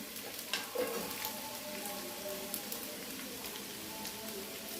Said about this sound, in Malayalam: ഒരു മൂന്ന് സ്പൂൺ എണ്ണ ഒഴിച്ചു കൊടുത്തു ഇനി നമുക്ക് ഈ ചതച്ച് വെച്ചിരിക്കുന്ന ഉള്ളിയും വെളുത്തുള്ളിയും ഇഞ്ചിയും പച്ചമുളകും കൂടെ അതും കൂടി ഇട്ട് കൊടുത്തു